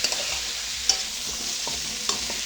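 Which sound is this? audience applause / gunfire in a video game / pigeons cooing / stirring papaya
stirring papaya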